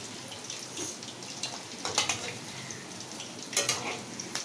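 Mutton kima koftas fry in hot oil with a steady, soft sizzle, broken by a few louder crackles and spatters as the pieces are turned, close and without talk.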